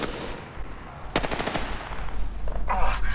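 Automatic gunfire in the Apex Legends battle royale game, a sharp burst of rapid shots around the middle followed by another closer burst near the end, over steady game background noise.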